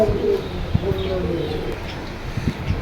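Domestic pigeons coo softly at a busy Jinjira bazaar pigeon market, low repeated coos close by over a steady hum of crowd noise and distant voices.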